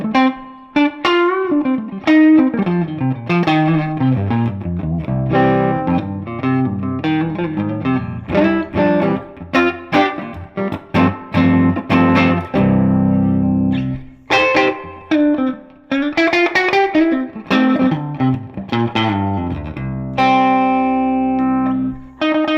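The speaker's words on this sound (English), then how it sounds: "I would never use that much reverb, but I usually do leave it" Electric guitar played through a Strymon Flint reverb pedal, chords and single notes ringing out with a long, washy reverb tail, loud and close, with brief pauses between phrases.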